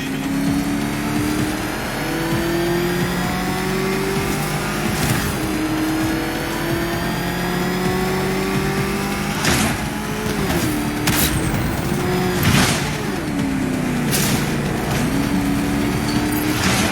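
The Batmobile's engine revs in the video game Batman Arkham Knight, a loud steady drone with rising and falling pitch sweeps as it accelerates, broken by sharp bursts and skids.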